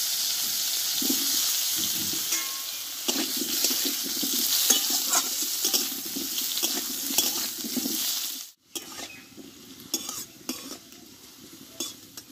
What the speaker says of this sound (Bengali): এবার আলুগুলোকে কষে নেবো আমি